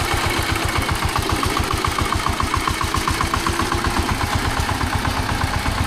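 A heavy tractor engine chugs loudly and steadily at idle, its rapid regular thumping pulses continuing without a break.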